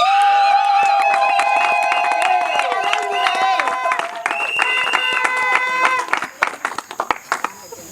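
Guests at a civil wedding applaud the newly married bride. Rhythmic clapping runs under loud, sustained high-pitched cheering or ululating voices, then breaks into scattered claps and shouts near the end.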